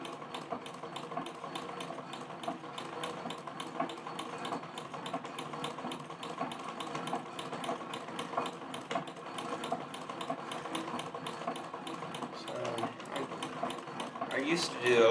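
A Singer 237 sewing machine with an oscillating hook runs steadily through free motion embroidery, a quiet, smooth, fast rhythmic whirr that continues for the whole stretch, with a brief louder burst at the end.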